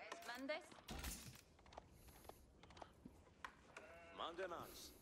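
Sheep in the Age of Empires 4 strategy game bleat a couple of times, a wavering call near the start and another near the end, over steady game ambience with occasional clicks and a voice talking.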